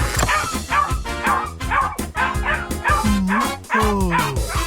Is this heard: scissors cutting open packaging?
no